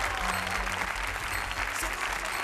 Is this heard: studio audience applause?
yes